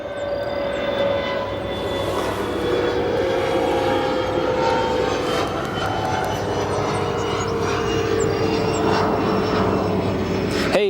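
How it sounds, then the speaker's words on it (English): Icelandair Boeing 757 jet airliner in 100-year livery rolling for departure on runway 28 right at O'Hare airport, a loud continuous engine roar with a whining tone, heard from a distance and steady throughout. "We have our 100-year livery now rolling down 28 right, 28 right. departure of the 100-year livery Icelandair 757."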